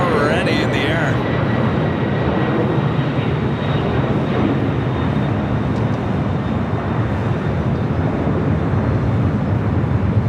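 A Prime Air cargo plane in flight at Los Angeles International Airport, a loud, steady, broadband engine roar filling the whole stretch without letup, with no talking over it.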